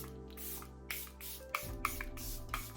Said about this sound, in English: It's the Charlotte Tilbury Airbrush Setting Spray.